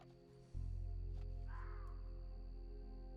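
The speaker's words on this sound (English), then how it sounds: "Some hawk or owl or something." A single bird call, a hawk or owl, sounds in Red Dead Redemption 2. It is one brief cry at middle distance over a steady low ambient hum, with no talking.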